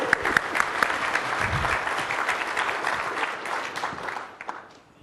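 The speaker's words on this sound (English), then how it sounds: "Let me not stop your applause" Conference audience applauding steadily at a technical talk, dense clapping that holds strong and then thins and fades toward the end.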